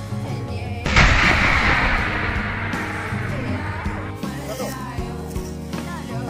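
An artillery gun fires in heavy fighting on the southern front: one loud, close blast that rolls out into a long, rumbling decay, with faint voices and shouting in the background.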